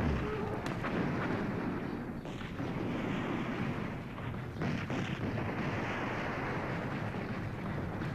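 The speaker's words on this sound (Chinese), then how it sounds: "这枪炮声从哪儿来的？" Gunfire and artillery in a Long March war drama rumble dull and distant, a steady low roar broken by scattered bursts and thuds throughout.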